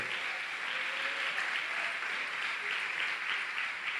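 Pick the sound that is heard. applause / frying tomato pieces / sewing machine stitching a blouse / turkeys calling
applause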